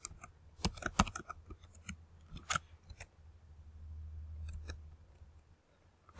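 Someone types a new password on a computer keyboard while creating a Craigslist account, producing quiet, irregular clusters of close key clicks with short pauses between them.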